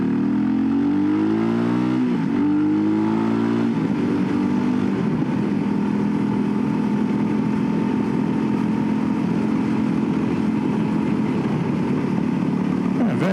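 A VOGE 300 Rally motorcycle ridden over a bumpy road, its engine droning steadily after an early rise and dip in revs, with constant wind rush and a voice talking over it.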